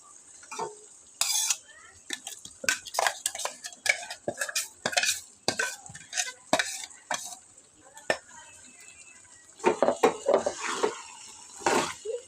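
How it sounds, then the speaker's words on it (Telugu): A spoon stirs and scrapes around a pan of stuffed brinjal curry in quick, irregular strokes, clattering repeatedly over a faint sizzle close by. "వేసుకొని అంతా బాగా వంకాయకి పట్టేలాగా కలుపుకోవాలి"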